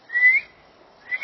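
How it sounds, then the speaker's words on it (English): A person whistles a short melodic phrase, pauses briefly, then begins a second whistled phrase; the tones are clear, fairly close and alone, with no talking. "I'll whistle before I leave."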